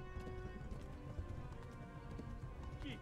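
Rhythmic hoof clip-clops from a horse in the video game Kingdom Come: Deliverance, steady and moderately quiet against a dense background hum.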